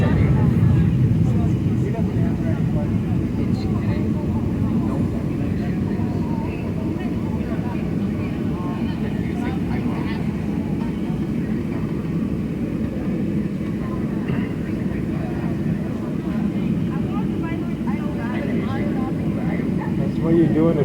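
Inside the cabin of a Southwest Boeing 737-700 taking off from Chicago Midway, a steady, loud engine roar fills the clip, with voices talking over it.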